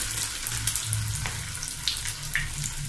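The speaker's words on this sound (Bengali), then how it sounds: "তেলের মধ্যে দিয়ে দিচ্ছি টিকিয়াগুলা।" Beef shami kabab patties, bound with egg white, frying in hot oil over a lowered flame, giving a steady close sizzle and crackle with a few brief pops, no voices.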